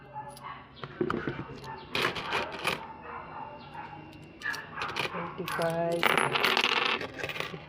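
Coins clinking and dropping as they are counted by hand, a run of sharp metallic taps and jingles close by, with people talking over them throughout.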